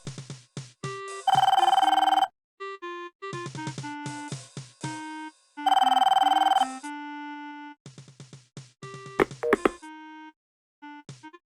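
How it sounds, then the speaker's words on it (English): Telephone ringing in the Police Quest IV: Open Season video game, repeated electronic rings in bursts with tonal beeps between, clear and alone. "Answer your damn phone, Junior."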